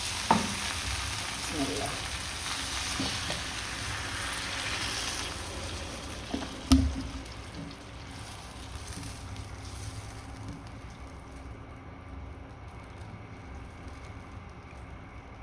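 Spices sizzle and fry in a pan for fish curry as water is poured in, a steady crackling hiss throughout with a brief sharp clatter near the middle, then a softer simmering sizzle; a single short word is spoken at the start.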